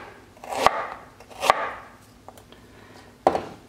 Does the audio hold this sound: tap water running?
no